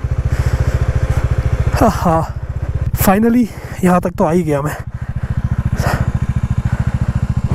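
A motorcycle engine idles loudly and steadily close by while the bike is parked on a snowy mountain road near Chopta, its rapid low putter running throughout as someone talks over it.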